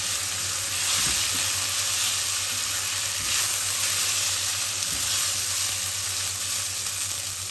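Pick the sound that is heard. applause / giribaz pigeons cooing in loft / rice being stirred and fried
rice being stirred and fried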